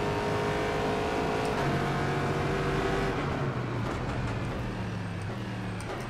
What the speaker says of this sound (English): You're hearing that rush of wind,